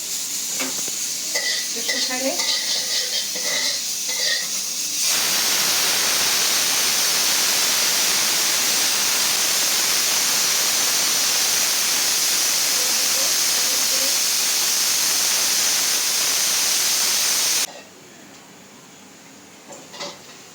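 Egg korma hits a pan of hot oil and bursts into loud, continuous close sizzling and hissing that holds for about twelve seconds, following quieter kitchen clatter and then dropping away abruptly.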